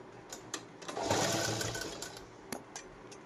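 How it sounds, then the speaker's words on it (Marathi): Sewing machine running a continuous straight stitch through saree fabric being made into a blouse, a steady close whir that swells for about a second and a half, with brief clicks and taps before and after. "आता शिलाई घेताना आपण अखंड शिलाई घ्यायची."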